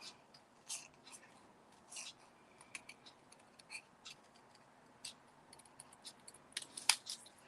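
Scissors snip through paper in short, quiet cuts, with a few scattered snips and a sharper one near the end, during a paper craft project.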